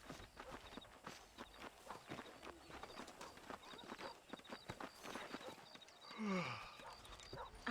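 A horse's hooves clip-clop in a quick, steady rhythm as it is ridden in the video game Red Dead Redemption 2, close and clear, ending with a rising whinny from the horse.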